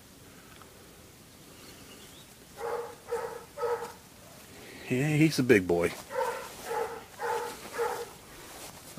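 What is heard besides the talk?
dog barking in background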